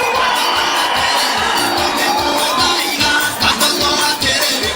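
Dense crowd noise of applause and cheering at a school fundraising event in Kenya, loud and sustained throughout.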